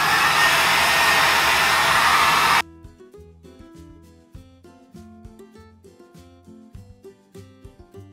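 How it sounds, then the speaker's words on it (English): A hair dryer blowing hair straight through a vented brush roars loudly and steadily for about two and a half seconds, then cuts off abruptly, leaving soft music playing for the rest. "make sure you're using a vented brush if you're trying to blow dry your hair straight"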